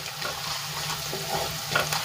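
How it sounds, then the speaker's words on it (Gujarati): Turmeric being stirred into hot oil for a drumstick kadhi, a soft, low sizzle with light stirring against the pan, quiet and continuous with no talk. "તો હળદરને આ રીતે આપણે સરસ રીતે તેલમાં મિક્સ કરી લઈશું"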